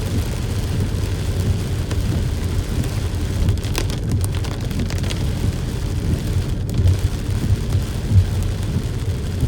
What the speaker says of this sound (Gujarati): વરસાદ પણ બહુ જોરદાર પડી રહ્યો છે